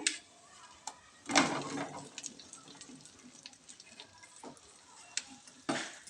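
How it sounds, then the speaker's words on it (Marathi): Amla gooseberries stirred and tossed in spiced oil in a kadhai, with scattered scraping strokes of a spoon and soft sizzling, louder bursts near the start and end, fairly close. "आवळे चांगले परतून घ्यायचे"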